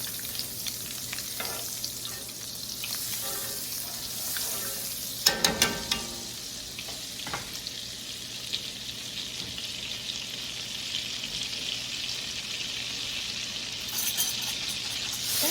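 Butter melts into olive oil and beef fat in a pan for Swedish meatballs. It gives a soft, continuous sizzle and crackle, fairly quiet, with a brief cluster of utensil clinks partway through.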